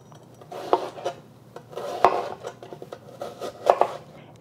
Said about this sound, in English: I have one or part of a red onion that I'm just going to cut up into chunks